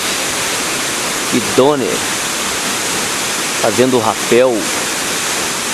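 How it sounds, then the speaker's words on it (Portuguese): Cachoeira de Santo Antônio waterfall near Raposos and Caeté in Morro Vermelho, a steady broadband rush of falling water filling the scene, with people talking briefly over it twice. "cachoeira linda"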